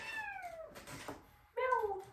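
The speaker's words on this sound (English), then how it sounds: "What happened? Cat. Cat happened." A cat meows twice in a quiet room, a longer falling meow and then a shorter, louder one after a brief pause, with faint speech in the background.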